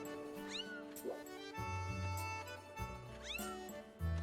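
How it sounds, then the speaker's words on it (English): A cat-like creature in The Legend of Zelda: Skyward Sword HD gives repeated meows, two clear rising-falling cries over steady game music and effects. "It sounds like a cat, so I guess it's some sort of cat-like"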